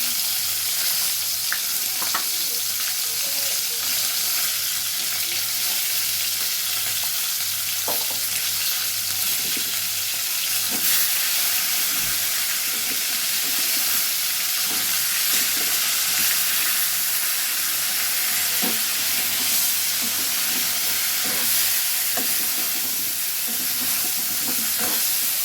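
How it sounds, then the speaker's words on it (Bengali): Cauliflower florets frying in a pan with salt and turmeric give a steady, close, continuous sizzle with occasional stirring scrapes, no voices. "কিন্তু আমি খুব কড়া করে ভাজবো"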